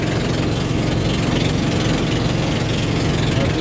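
A steady, rattling boat engine chugs continuously at close range, a loud unbroken engine drone with no pauses or talk.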